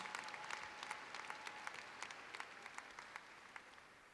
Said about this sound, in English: Let's give Mr. Hawley a great round of applause.